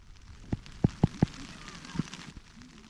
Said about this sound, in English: So it's raining now, we're hunkered down in the tents.